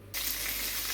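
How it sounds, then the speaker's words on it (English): Steady bright hiss of greens frying with salt in a little oil in a pan, starting abruptly and continuing evenly, close and fairly loud. "The greens are frying with a bit of salt in a little bit of oil."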